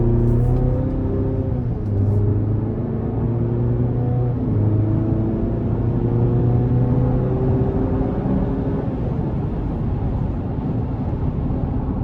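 A 2024 Chevrolet Colorado Z71 pickup with the 2.7-litre engine pulls away under moderate throttle. The engine drone rises steadily in pitch and settles after a gear change, loud and continuous from inside the cab, with no talk.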